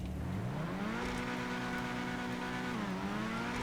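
Tuned Itali RSX sports car from GTA Online accelerating on snow, a steady loud engine note climbing in pitch through the gears, then holding a high sustained drone with a brief dip near the end, heard alone without talk.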